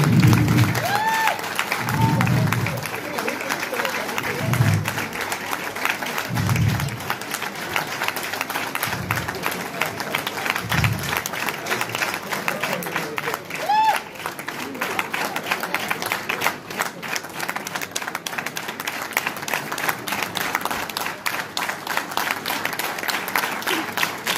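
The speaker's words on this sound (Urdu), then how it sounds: "تالیاں بجتی رہنی چاہیے" Sustained audience applause fills a hall at a Urdu poetry mushaira in Slough, steady dense clapping continuing throughout, with occasional faint voices underneath.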